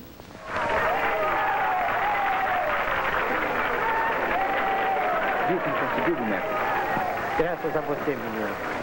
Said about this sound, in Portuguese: Até me aplaudiram